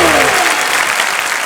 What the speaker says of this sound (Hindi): जोरदार तालियां गोविंदा सर के लिए।